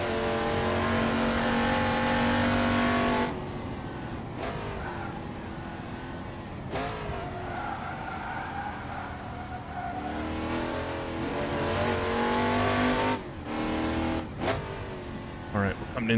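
Touring car engines scream in online racing on the Goodwood circuit in Assetto Corsa, with loud, near revs climbing and dropping through gear shifts, sharp lifts off the throttle and occasional tyre squeal.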